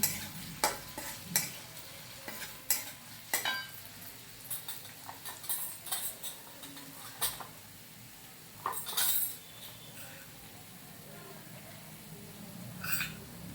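Potato and onion for kande pohe stirred in a pan, with repeated spoon clinks and scrapes against metal over a soft sizzle, irregular and close, fairly quiet overall.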